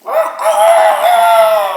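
A rooster gives one loud, drawn-out crow, close by and clear, rising and then holding its call to the end.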